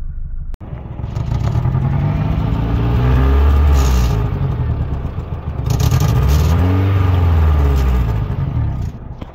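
A 1991 Honda Civic wagon, a four-wheel-drive EF model with a suspected blown head gasket, idles and revs with a rough, uneven misfire; a loud, close engine drone swells twice, with no speech.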